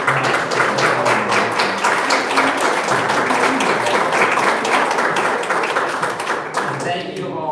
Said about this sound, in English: I also want to give Linda another big round of applause